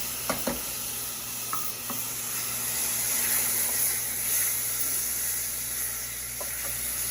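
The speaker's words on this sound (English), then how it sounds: "I'm going to saute it till it's fragrant." Garlic and diced canned tomatoes sautéing in a pan, a continuous close sizzle with a few light clicks of a utensil stirring, no voices.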